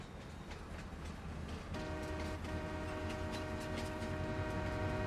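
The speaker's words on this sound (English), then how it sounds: "All aboard the morning train to Erlangratt." A train pulls out of a station in Farming Simulator 22: a low rumbling engine and rail noise, then a sustained tonal horn or whistle sounds partway through and holds over the rolling clatter.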